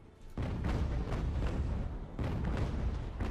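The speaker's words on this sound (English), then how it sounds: "let's switch it up to the other cannon because we're far away now." Cannon fire in Ultimate Admiral: Age of Sail, a naval battle video game: faint, distant rumbling booms that roll on almost continuously, with a fresh surge of blasts partway through.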